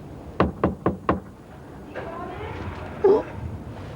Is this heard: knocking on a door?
yes